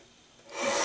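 Cardstock being trimmed to size for a Z-fold card: a soft rasping cut that swells from quiet to a loud, bright scrape over the last half second, with no talking.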